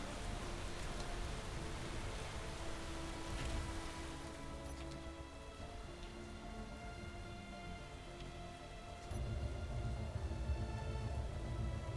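Steady rain weather in the video game Space Engineers, a continuous broadband hiss of falling drops that thickens toward the end, heard alone under faint game tones.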